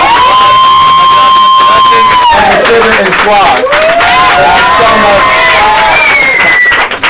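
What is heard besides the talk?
audience applauding and cheering for poets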